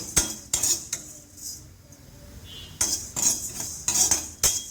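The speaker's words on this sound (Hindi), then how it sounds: "इन तीनों को हम ड्राई रोस्ट करेंगे, और इसे हम अच्छी तरह से भून लेंगे।" Whole coriander seeds, cumin and spices dry roasting in a pan for kachori masala, with a metal spoon scraping and clinking against the pan in repeated bursts, close and fairly loud, with quieter gaps between.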